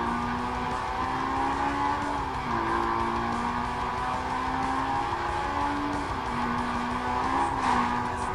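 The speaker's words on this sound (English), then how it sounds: "quit doing burnouts" In Need for Speed Most Wanted, a car's engine drones steadily while its tires squeal through repeated burnouts, the pitch stepping up and down as the revs rise and fall.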